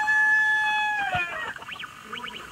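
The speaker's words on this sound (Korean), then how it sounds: "얘는 암탉이고 얘는 수탉인건가?" Cartoon hen and rooster on a Toca Boca farmhouse video game farm give a few short clucking calls with a rising squawk, heard after a steady electronic tone fades out.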